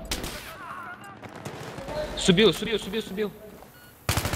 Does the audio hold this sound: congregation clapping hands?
no